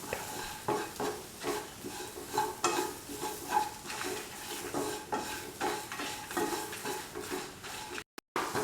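Cooked tomatoes are crushed and stirred in a pan for a tofu masala, making rhythmic scraping and clinking of the utensil against metal over a soft sizzle, close and fairly loud, with no talk.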